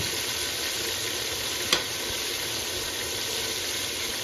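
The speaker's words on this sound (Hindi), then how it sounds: "टमाटरों को थोड़ा सा पकाएंगे" Tomatoes cook in a pan for a lauki curry, a soft steady sizzle with one brief sharp click of a utensil midway, no voices.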